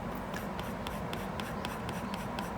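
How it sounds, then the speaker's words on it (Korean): A pencil shading lightly on paper for a drawing: a continuous soft scratchy rasp with quick, regular back-and-forth strokes, close and steady, no talking. "1번이니까 살짝만 연하게 칠해 볼게요"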